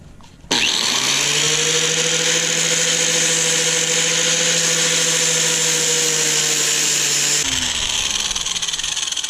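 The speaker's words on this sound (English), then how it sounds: "Very cheap angle grinder. And I don't remember which brand flap disc this is that I bought." A cheap angle grinder with a flap disc grinds metal in one steady, loud, high whine lasting several seconds, close by, starting abruptly and spinning down at the end.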